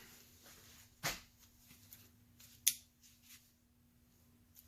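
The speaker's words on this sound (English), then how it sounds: "So let's get the safety hook out." The safety hook on a Benchmade Triage knife is opened with two sharp, close metallic clicks about a second and a half apart in an otherwise quiet space.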